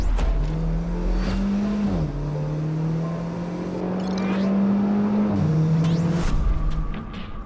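An Alfa Romeo 4C sports car engine revs hard and climbs in pitch, with two quick gear shifts and a throaty roar close by.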